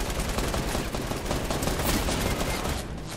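Gunfire in a first-person shooter game forms a dense, continuous crackle of rapid shots, loud and close, holding steady for a few seconds before thinning slightly at the end.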